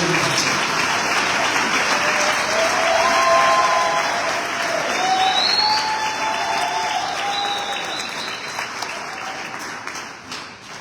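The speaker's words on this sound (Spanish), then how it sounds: "Den un fuerte aplauso a Cristo de nuestra forma." A church congregation at a morning conference service applauds and cheers, a sustained wash of clapping with scattered shouts riding on top, easing slightly toward the end.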